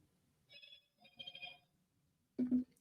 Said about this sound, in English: my phone is blowing up because I forgot to mute it